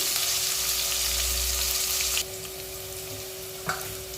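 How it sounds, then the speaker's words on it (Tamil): Onions fry in a pan with a loud, steady sizzle that drops abruptly to a softer hiss, followed by a single stirring clatter near the end. "வெங்காயம் நல்லா பொரிட்டோம்"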